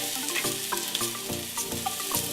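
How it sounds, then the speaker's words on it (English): Shallots sizzle in hot avocado oil in a pan for an Indian pumpkin and chickpea soup, a continuous close frying hiss marked by several thumps and scrapes as they are stirred, with no voices. "I will add the shallots"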